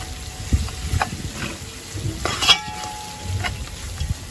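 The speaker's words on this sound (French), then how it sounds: "Maintenant, je vais la touiller pour la mélanger mon thym." Thyme stirred into salt cod and onion frying in a pan: intermittent spoon-scraping strokes over a low, steady sizzle, close and moderately loud.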